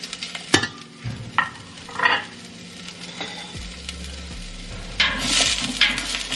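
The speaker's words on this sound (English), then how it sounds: "So now I'm going to add my onions and saute these for a couple of minutes so they're nice and translucent." Onions sauté in olive oil with a soft sizzle under intermittent scraping and stirring of a utensil against the pan, plus a few clinks, close by with no voices.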